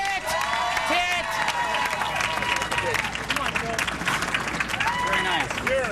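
At a professional bowling team event, the 2008 Geico Team Shootout, a crowd keeps up loud, sustained cheering and applause with shouted calls and whoops, and people talk over the din throughout.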